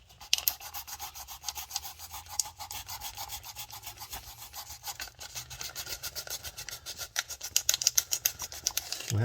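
Sandpaper rubbing on a part of a 1:650 scale U.S.S. Enterprise model starship, fast rhythmic back-and-forth rasping strokes, close and fairly quiet, continuing steadily with brief pauses.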